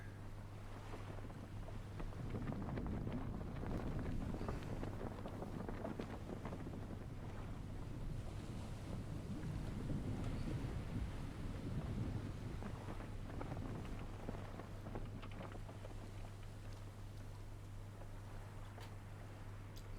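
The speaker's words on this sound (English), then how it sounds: "wind is very nicely blowing me into the side of this island" Steady wind blowing across open sea in the survival game Stranded Deep, a continuous rushing roar with gusty swells and low buffeting, mixed with a faint wash of water and a constant low hum beneath.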